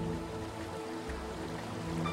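Cascade of the Cupatitzio river at La Tzararacua near Uruapan, Michoacán, dropping 40 metres: a steady, broad rushing roar of falling water with no voices.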